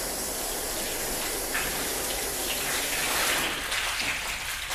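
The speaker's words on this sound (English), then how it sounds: "Let's get my hose to come past the Bowden's own" A garden hose sprays water over a car's paint in a steady, continuous hiss and splatter, fairly faint and somewhat distant. No one talks during it.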